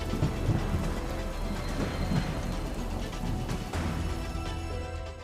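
Thunderstorm with steady heavy rain pouring down, low rolling thunder rumbling throughout and a deeper clap near the middle, loud and continuous with no voices.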